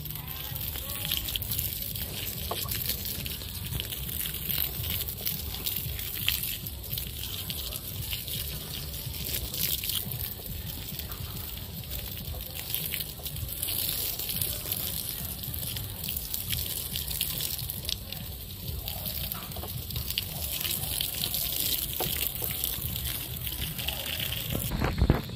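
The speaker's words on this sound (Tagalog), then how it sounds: "Lagyan natin ng tubig." Water poured onto freshly pulverized garden soil before planting, a steady splashing gush that runs on evenly at moderate loudness close by, with occasional voices underneath.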